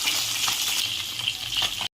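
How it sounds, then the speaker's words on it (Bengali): Bhola fish fries in oil with a loud, dense, continuous sizzle close by that cuts off abruptly at the end. "উল্টে দিয়েছি, অন্য পিঠে ভাজা হচ্ছে।"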